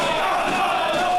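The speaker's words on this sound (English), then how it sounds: "This crowd is very annoying." A wrestling crowd at an indoor independent show jeers in a dense, continuous roar of voices with whistling tones, loud and sustained for a brief moment.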